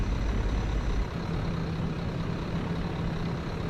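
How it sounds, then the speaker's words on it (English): Low idling rumble of a bus engine in a bus-driving video game, steady and moderately loud, with a brief air release near the start before the drone settles. "even though it still has air brake sounds"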